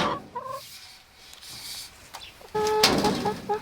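Hens in a backyard flock cluck in short, quiet bursts, with a few separate calls early on and a livelier cluster of clucking near the end.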